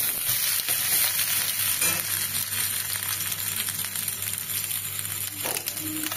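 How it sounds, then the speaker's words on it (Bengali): Pointed gourd (potol) frying in hot oil for a prawn and potol curry, giving a steady, dense sizzle that runs the whole time with faint stirring scrapes and no talk. "এবার পটলটাকে একটু ভালো করে ভেজে নিতে হবে।"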